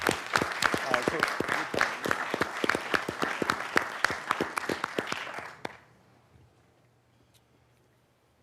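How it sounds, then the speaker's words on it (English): A room full of people at a city council meeting gives a round of applause, with dense, loud clapping lasting about five and a half seconds before it stops abruptly and near-silence follows. "let's give them a round of applause"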